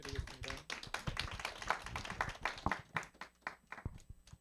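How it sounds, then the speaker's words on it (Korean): Sparse, uneven hand claps from a small audience after a poem reading at a morning book talk, a handful of close, sharp claps that thin out and fade over a few seconds. "박수 부탁드리겠습니다."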